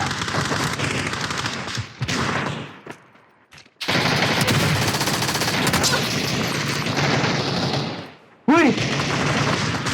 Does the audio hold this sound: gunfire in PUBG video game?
yes